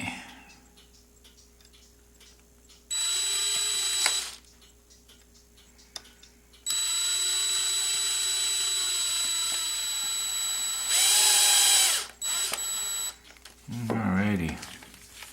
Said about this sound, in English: I can't drive screws unless I use an electric drill